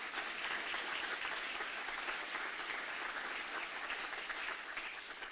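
Audience applause at an inauguration ceremony for a care home in a former convent, a dense, even patter of many hands clapping that stays steady throughout, fairly soft and distant with no talk over it.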